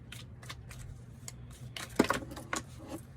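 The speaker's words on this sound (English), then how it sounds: "let's go ahead here and let's draw the cards" Tarot cards are shuffled by hand, giving a series of light, quick riffling and flicking bursts close by, with one sharper snap near the middle.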